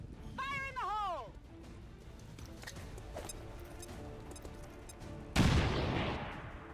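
Frag grenade explosion in a video game, a sudden loud broadband blast near the end after a stretch of quieter game sounds and a rising-falling tonal effect, the burst decaying over about a second.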